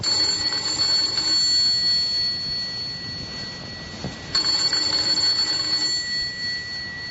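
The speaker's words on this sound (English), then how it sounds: "Let's begin this tale with the ringing of a doorbell." An electric ringing bell buzzes steadily for a few seconds, pauses briefly, then rings again, loud and close in a quiet room.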